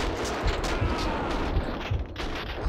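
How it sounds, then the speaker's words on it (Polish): Gunfire from a shotgun in the video game Max Payne 2, dense and loud, with repeated booming blasts and a busy, noisy action backdrop throughout. "Ze strzelbuni jakiś do mnie strzela."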